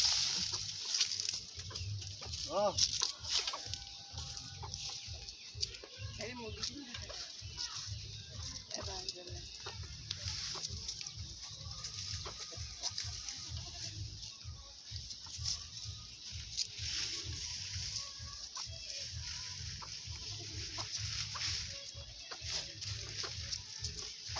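Chickens and their chicks cluck and peep softly around a feeding spot, close but faint, with quiet pecking and low background noise throughout.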